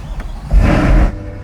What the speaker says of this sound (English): First startup of our new C8R.